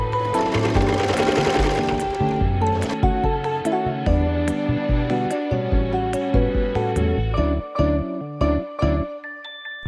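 A sewing machine stitches with elastic thread at maximum stitch length, giving a close, busy mechanical whir and clatter with light metallic ticks and jingles that stop and start in short runs.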